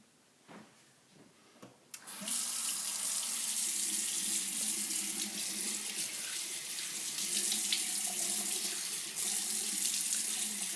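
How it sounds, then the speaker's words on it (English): Warm water running steadily from a bathroom tap into a sink for face washing, a continuous close splashing rush that starts after a few quiet knocks and holds to the end. "he's just going to wet his face with warm water."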